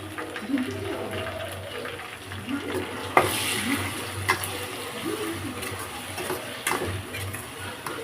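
Ginger-garlic paste frying in a curry pan for chicken curry, stirred with a spoon: a steady sizzle with scraping clicks and soft knocks, close and fairly quiet, with a faint voice in the background.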